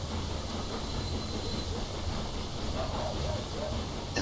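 Train pulling into a station in the Railway Empire 2 video game, a steady rumbling rail noise with a faint hiss and squeal, continuous and moderately loud throughout.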